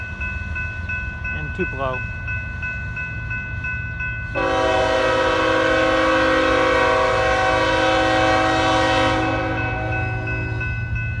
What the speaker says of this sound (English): Comes Burlington Northern Santa Fe westbound, about ready to cross the Diamonds